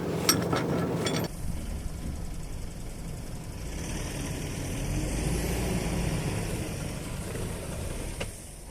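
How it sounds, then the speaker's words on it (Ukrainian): A car stuck in mud is pulled free on an ordinary tow strap by a second car, giving a steady, close engine drone that holds for several seconds after a brief louder burst at the start. "Зараз ми показали, як ніжно, акуратно без ривків можна витягувати автомобіль за допомогою звичайної буксировочної струпи"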